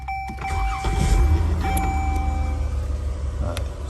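A 2012 Dodge Journey's engine starts, a short cranking burst giving way to a steady low idle rumble that holds close and loud throughout, with a faint electrical whine running above.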